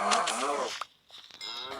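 Cows in the video game Minecraft give a long, low, drawn-out moo, followed by a brief pause and the start of another moo, close and fairly clear.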